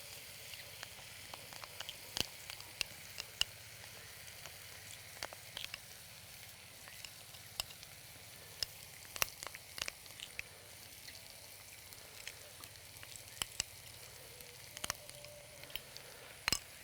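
Chili and Kashmiri chili paste sizzling in a pan with softened sautéed onions, a quiet steady hiss broken by small scattered pops and crackles, no one speaking.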